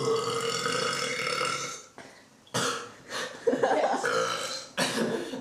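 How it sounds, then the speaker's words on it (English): A person produces a series of loud, drawn-out belches in close succession, with short pauses and some rough throaty bursts between them, in a belching contest round. "I'm gonna burp though."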